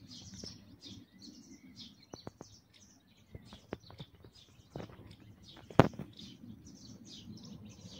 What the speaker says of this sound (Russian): Вон тут трясогузка.